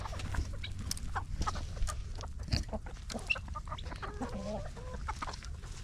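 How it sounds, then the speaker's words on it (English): Farm chickens clucking steadily in close range, with scattered short calls and squawks layered over a low background rumble, no talking. "First up on the farm tour, we have Chickens."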